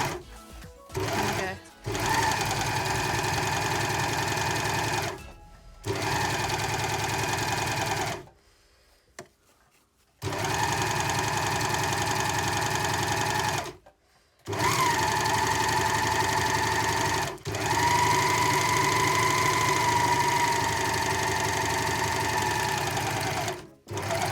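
A Janome Sewist 725S sewing machine stitches satin fabric in several long, steady whirring runs, separated by brief pauses and one longer stop, heard up close with no talking.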